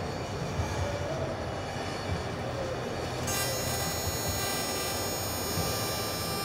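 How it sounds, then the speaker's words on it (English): A TIG welding machine runs a bead on aluminum, giving a steady broadband hiss and hum at constant level, with a faint high whine that gets louder partway through. "So you can hear the machine welding right now."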